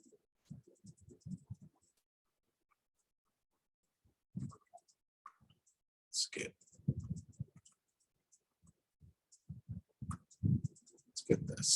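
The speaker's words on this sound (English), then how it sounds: "So I'm going to erase like this." Writing is erased from a board in short scratchy bursts of rubbing, spread out with pauses and quiet gaps between them.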